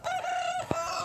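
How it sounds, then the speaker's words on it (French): A rooster crows close by at a farm, one loud drawn-out cock-a-doodle-doo with a short thump near its end and no one talking. "j'en ai marre de ce coq"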